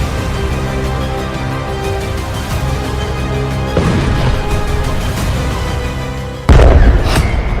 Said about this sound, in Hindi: तीन धमाकों से दहला तेल अवीव